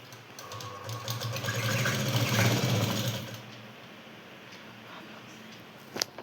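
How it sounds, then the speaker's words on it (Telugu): Sewing machine stitching fabric for a blouse made from a T-shirt, a close, steady mechanical whir running for about three seconds before stopping, followed by quiet handling and a sharp click near the end. "ఇలా అంపేసి కుట్టు వేసుకుందాము"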